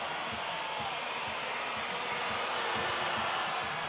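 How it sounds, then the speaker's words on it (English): Dense stadium crowd roar from spectators at an Argentina versus Scotland rugby union match, a steady wash of noise with faint whistling and rhythmic low thumps running throughout, swelling slightly toward the end. "noise and the whistling from the crowd"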